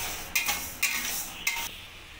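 Mung dal dry-roasting in a wok: three sharp scraping strokes of a spatula through the lentils, each followed by a soft hiss, spaced about half a second apart against a faint steady background.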